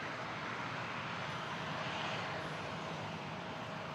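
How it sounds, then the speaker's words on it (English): A Saudia Boeing 787-9 airliner taxis toward the runway at Toronto Pearson, its engines a steady, broad, continuous roar throughout, with no talk over it. "Currently taxiing to the runway. It's a 787-9 Saudia headed for Jeddah."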